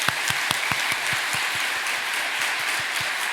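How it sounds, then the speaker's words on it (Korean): A church congregation applauds newly ordained elders, deacons and deaconesses at an ordination service, steady crowd clapping with a regular rhythmic beat of unison claps running under the whole stretch. "우리 박수로 격려하겠습니다"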